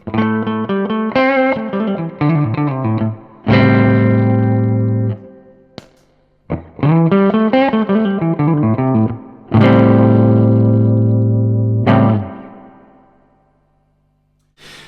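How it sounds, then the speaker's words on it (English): Telecaster electric guitar on the neck pickup wired as a humbucker, played with the pedal bypassed: clean, slightly muddy phrases of notes and ringing chords in two bursts separated by a short pause, each decaying into silence. "that sounds a little bit muddy to my ears, and that's because I've got the Telecaster wired so that in this position essentially this becomes a humbucker"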